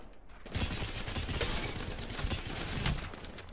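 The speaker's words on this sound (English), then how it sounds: "Wow, burst weapon." Burst weapon gunfire in the shooter game Apex Legends: after a brief quiet start, a loud, dense stream of rapid shots fills the rest of the stretch with sharp, overlapping cracks, close and continuous.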